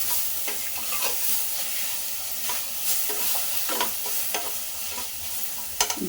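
Tomato-rice masala with a half handful of coriander leaves sautés in a pan, sizzling steadily while a spoon stirs and scrapes in repeated close strokes.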